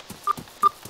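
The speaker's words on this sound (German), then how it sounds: "Oh Gott, mein Handy! Es macht Geräusche, die will ich gar nicht." A mobile phone sounds unwanted beeping tones during a DayZ game session, two short, clear dial-tone-like beeps about a third of a second apart, close and alone.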